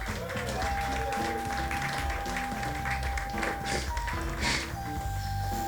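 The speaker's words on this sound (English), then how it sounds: "So how about a big round of applause to that lovable Colonel?" Audience applause at a comedy stage show, a steady wash of clapping heard at moderate distance beneath music with a sustained tone and bass, no talking over it.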